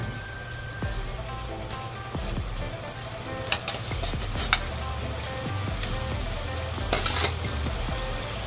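Fried fish slips into a bubbling mustard paste sauce seasoned with turmeric, giving a steady close hiss and sputter, with a few sharp clinks of a utensil against the pan.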